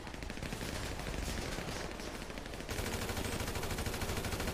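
Gunfire in the video game GTA V, with rapid automatic bursts rattling continuously and growing louder partway through, the shots dense and steady.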